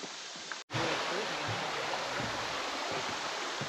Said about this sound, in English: A pretty creek